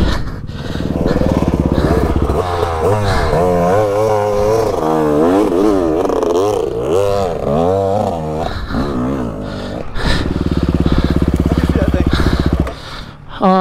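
A dirt bike engine on a rough trail ride at Soboba, loud and close, revving and bogging through steady throttle changes with a brief dip before surging again.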